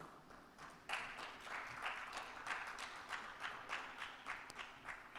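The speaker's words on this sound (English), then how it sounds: "big round of applause once again" Audience applause at an award ceremony for a professional of the year honour, a steady crowd of clapping hands with gentle swells, moderately near and sustained throughout without voices on top.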